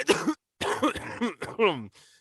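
A person coughs and clears their throat several times in quick succession, close and fairly loud, trailing off quietly.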